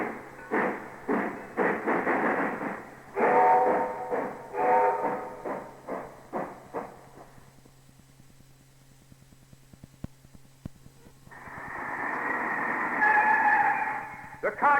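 A model railroad sound effect plays. Rhythmic chuffing bursts build in a loud series, fade into a quiet stretch, then a sustained whistle-like blast rises near the end.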